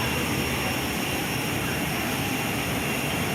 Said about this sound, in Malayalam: ആ എൻജിൻ്റെ സൗണ്ടാണത്.